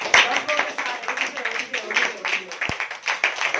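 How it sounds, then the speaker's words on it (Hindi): Scattered audience clapping at a motivational talk, light and uneven, with a voice speaking over the sparse claps. "तो अब आप उठ के सेलिब्रेट करें, तालियां बजाएं"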